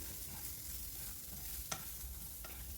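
Grated ginger stirred in a hot pan, a steady soft sizzle throughout with a couple of brief scraping clicks of the spoon, close and alone.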